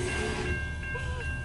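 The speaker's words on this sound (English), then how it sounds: "Cool, this is the train." A long CN northbound intermodal mixed freight train rumbles past with a steady low roar and a sustained tonal whine or horn-like hum above it, no voices.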